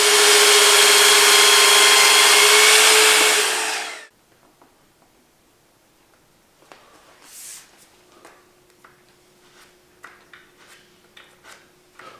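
A power saw whines loudly as it cuts wood for a dining table top, then stops abruptly, followed by quiet handling clatter and light knocks.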